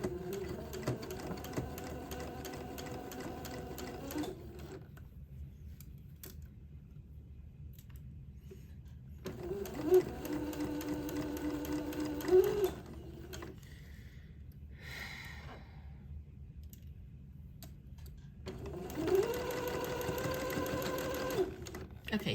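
A sewing machine stitches around a dress neckline in steady whirring runs that stop and restart three times, with quiet pauses between and faint background speech.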